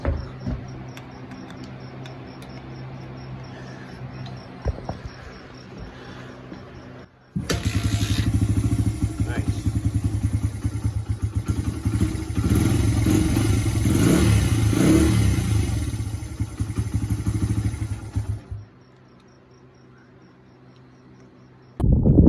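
A Honda XR80R motorcycle engine, just after carburetor tuning, starts abruptly and runs loud and rough for about eleven seconds with uneven revving, then cuts off, leaving a quiet, faintly buzzing background.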